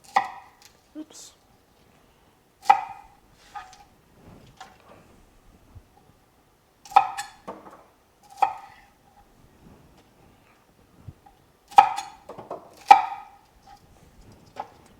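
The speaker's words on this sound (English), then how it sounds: "Most of these I just end up chopping in half." A knife chops marlin on a board in sharp, separate knocks spaced irregularly, with brief pauses and a few quieter handling sounds between the cuts.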